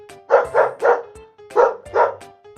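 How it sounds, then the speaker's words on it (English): A dog barks nearby in two quick bursts, three sharp barks and then two more after a short pause. "Dog."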